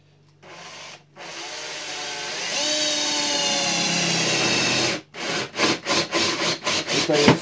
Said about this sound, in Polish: Zrobiliśmy punkt, używamy zwykłego wiertła.